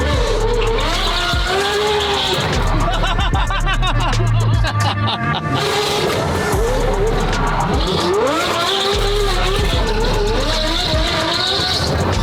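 A Lamborghini driven hard, with the engine revving, rising and falling, and tires squealing and skidding loudly up close; people chuckle and talk over the engine noise throughout.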